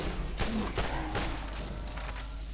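Gunfire in the video game Borderlands comes as a string of sharp shots and bursts at uneven intervals over a dense, steady game background.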